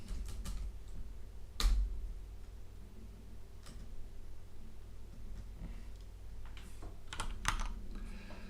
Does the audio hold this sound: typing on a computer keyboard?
yes